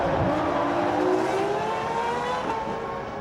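Formula 1 cars from the 1999 season roar past during an overtaking move, with engine pitch rising and sliding as two high-revving cars scream by, loud and continuous.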